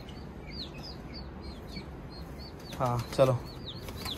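Small birds chirp repeatedly while wings flutter nearby in a coop holding pigeons and a rooster, and voices speak briefly near the end.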